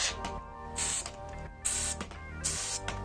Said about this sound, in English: To power the spray, we'll use butane gas that's made for refilling lighters.